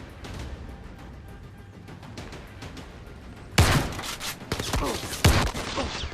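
Shotgun fire in the VR shooter Zero Caliber, a woodwork warehouse level: a sudden loud burst of blasts about midway, with another heavy shot shortly after over busy game noise.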